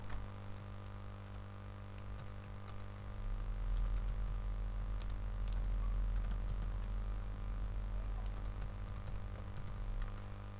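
Someone types steadily on a computer keyboard to fill in a database form, a run of light, close clicks over a constant low hum.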